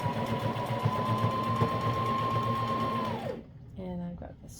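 A sewing machine stitches elastic onto a wool diaper cover, a steady close mechanical whir that runs for about three seconds and winds down, followed by a voice speaking.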